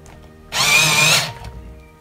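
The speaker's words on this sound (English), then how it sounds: "We'll give it a bit of a sharpen." A silver coloured pencil is ground in an electric sharpener, a loud, brief whirring buzz that starts abruptly, holds for under a second and stops, set against quiet surroundings.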